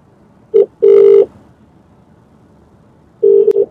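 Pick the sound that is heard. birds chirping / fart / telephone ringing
telephone ringing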